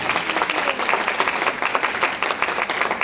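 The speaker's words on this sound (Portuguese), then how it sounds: "Palmas para eles." Applause for teachers at an educational training event fills the room, dense steady clapping from a sizable audience, close and loud throughout with no talk over it.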